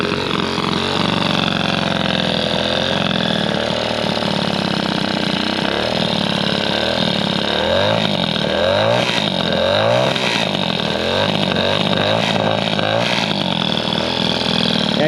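A customised Peugeot 103 SP moped engine runs steadily and loudly close up, idling with a continuous buzzing drone that holds throughout with slight pulses, and no talk over it.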